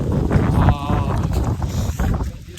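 Gusty wind buffets outdoors near a dam on the way to Chunchi Falls, a rough, blustery roar across the microphone with bits of talk mixed in.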